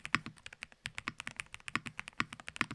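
Quick, even typing on a Nuphy WH80 keyboard with pre-lubed magnetic Hall-effect switches, crisp close keystrokes in a steady flurry with no voices.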